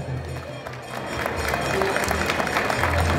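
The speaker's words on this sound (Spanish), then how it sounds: "Un fuerte aplauso" Applause for a visiting guest at the opening of a town fair in Quilehtla, Tlaxcala, out on an open plaza, a diffuse outdoor clapping that swells slightly, with crowd murmur and some talk mixed in.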